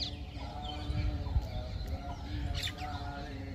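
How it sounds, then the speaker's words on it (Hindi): A parrot and a myna squabbling, giving repeated harsh screeches and chattering calls in short, irregular bursts at close range. "तोता मैना में भी झगड़ा होता है। कितना चीख पुकार है दोनों में।"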